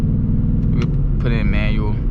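A 2024 Ford Mustang engine with 16,000 miles rumbles loudly and steadily from close by, a deep continuous throb, with a voice briefly audible over it partway through.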